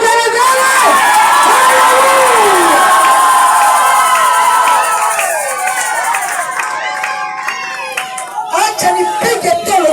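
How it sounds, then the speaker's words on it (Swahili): A crowd ululates and cheers loudly at a church gathering, with high, sustained trilling voices and clapping that thin out toward the end. "Piga vigelegele."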